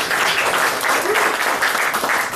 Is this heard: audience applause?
yes